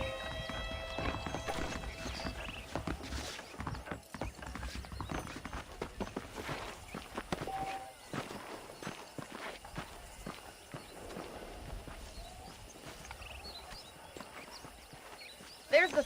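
Horse hooves clip-clop steadily in Red Dead Redemption, an even walking rhythm of hoofbeats at moderate distance running under background game ambience.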